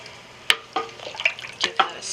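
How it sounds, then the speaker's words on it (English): A spoon stirs cultured buttermilk into milk in a pot for homemade cottage cheese, giving five soft clinks and swishes spaced about a quarter second apart, close and fairly quiet. "Give that a stir."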